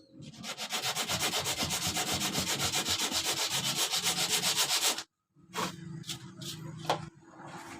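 Coarse, continuous rubbing of sandpaper over a fiberglass epoxy surfboard, close and loud for about five seconds, then a short silence before lighter, intermittent sanding strokes resume.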